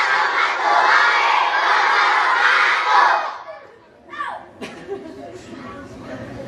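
Schoolchildren at an elementary school assembly shout a loud, sustained group reply to a greeting, a dense crowd roar for about three seconds that cuts off, followed by scattered quieter voices and small noises.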